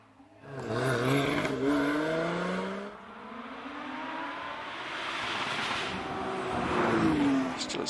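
A V6 Cup Lotus Exige with a 3.5 litre engine races up the Prescott hillclimb, revving hard and shifting through gears in rising and falling sweeps as it passes, loud and close, then fades into the distance.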